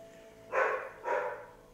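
A dog barks twice in quick succession, the two sharp, fairly loud barks standing out from a quiet room.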